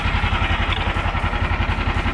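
A Snowdog B13 MER long-track snow machine engine runs close and loud with a steady, pulsing chug as it shifts into gear, with mechanical clatter over the rhythm.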